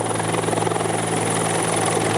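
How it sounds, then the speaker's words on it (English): The Westpac rescue helicopter in Newcastle flies close by with a loud, steady rotor chop and engine whine that fill the scene, no voices. "A symbol of hope, the Westpac rescue helicopter."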